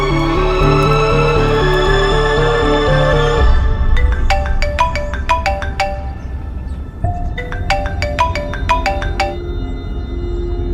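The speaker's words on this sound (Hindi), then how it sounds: "सोनाक्षी को फोन करने जा रही हैं।" A phone ringtone plays loudly, first as a sustained musical melody, then as repeated bursts of bright ringing tones with short gaps, over a low background bed and with no talk.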